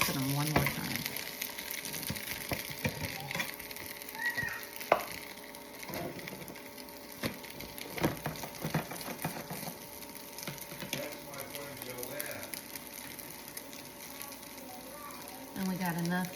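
French toast dipped in egg wash fries in a pan with a steady close sizzle, broken by scraping and clattering as pieces are flipped, with low talk at times.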